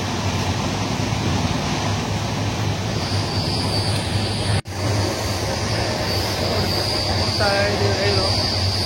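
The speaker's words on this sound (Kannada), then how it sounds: "ರೈಲು" A train runs along the line near Maddur on the way to Mysore with a steady loud rumble and wheel noise. There is a brief sharp break midway and some squealing tones near the end, with faint voices underneath.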